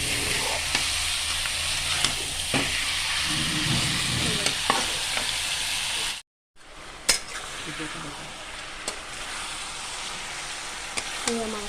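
Duck meat frying in a pan, a steady close sizzle with occasional stirring scrapes and utensil clinks, broken by a brief silent gap midway before the sizzling resumes.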